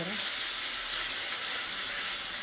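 A pan of food with coconut sizzles and fries steadily while being sautéed, a loud close hiss with faint stirring underneath and no pauses.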